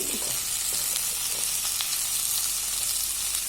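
Turmeric berry curry (chundakka theeyal) sautéing in a pan gives a steady, close frying sizzle with crackly high hiss, a few soft stirring clicks and no talking.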